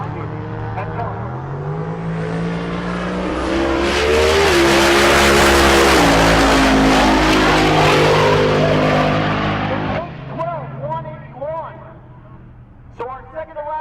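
A drag race car roars down the strip at Rocky Mountain Race Week 2023, rising loud and close into a full-throttle scream before cutting off, with an announcer talking over it and afterward.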